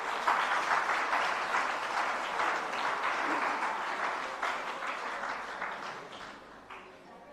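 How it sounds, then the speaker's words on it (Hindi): Loud applause from an audience at a Hindi religious gathering honouring a trust committee, a sustained even roar of clapping for several seconds that slowly tapers off. "यहाँ एक बार जोरदार तालियां"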